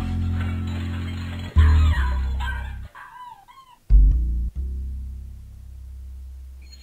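A cartoon dog barks and yips in the video game Milo and the Magpies, loud and close over a steady low game tone. Two sharp bursts are separated by short whimpering yelps.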